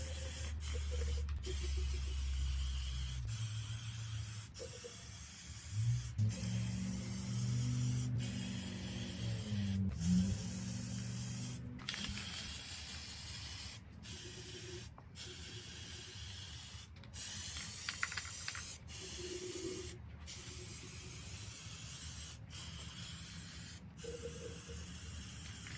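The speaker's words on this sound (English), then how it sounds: "I'm going to flip these over and spray the tops." Steady hissing of a spray paint can coating glass vases, running almost continuously with brief pauses between bursts, close and fairly loud, with faint low rumble at the start.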